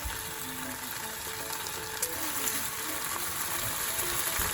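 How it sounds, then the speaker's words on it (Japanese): Bacon frying in a pan makes a soft, steady sizzle with faint crackles and a low background hum, heard at a distance with no talk. "じゃあまずベーコンを焼きます。"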